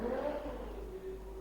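A steady mid-pitched engine hum with a faint rising whine from a vehicle motor in the video game Phasmophobia, under low background noise.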